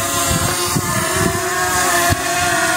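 An SJRC F5S PRO+ drone flies outdoors in strong wind, its motors giving a steady, close buzzing drone mixed with wind rumble against the microphone.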